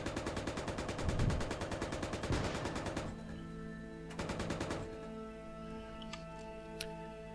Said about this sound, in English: That was a very powerful gun.